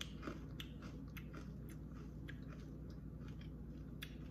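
Close, crisp crunching of freeze-dried sour Skittles candy being chewed, with repeated brittle bites and crackles at an uneven pace, quiet and without speech.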